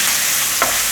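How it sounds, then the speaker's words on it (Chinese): Tofu skin fries in a tablespoon of oil in a pan, a loud dense sizzle with one brief stir or spatula touch, no talk. "把豆皮放进来煎。"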